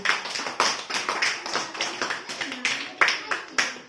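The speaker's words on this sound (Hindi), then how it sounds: "सब ताली बजाओ इनके लिए" Schoolchildren clap for their masked classmates: a steady round of quick, close, fairly loud handclaps in an uneven rhythm, with faint voices in the background.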